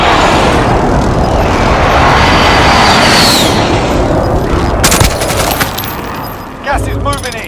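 A video game airstrike lands in a loud, dense roar of blasts and rapid gunfire-like impacts that rumble on for several seconds, then fade into scattered crackling pops.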